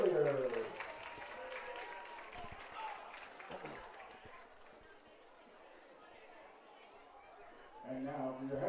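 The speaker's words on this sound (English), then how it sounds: "And a round of applause for Magazine Rattlers cheerleaders." Crowd applause for the Magazine Rattlers cheerleaders at a senior-night high school football game against Hector: a soft, distant patter of clapping and crowd noise that swells at the start, fades through the middle and rises again near the end.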